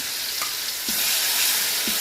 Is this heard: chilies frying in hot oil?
yes